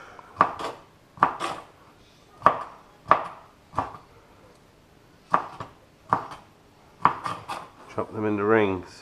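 A knife chops squid into rings on a board in an outdoor camp-style kitchen, giving about ten sharp, evenly spaced thuds close up, followed by a brief voice.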